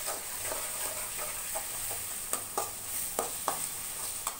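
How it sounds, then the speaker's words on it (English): Ginger garlic paste and chopped garlic cloves frying in a pan for dry cabbage Manchurian, a steady soft sizzle broken by several light scraping stirs, close and fairly quiet. "till the ginger garlic paste and the garlic cloves fry completely."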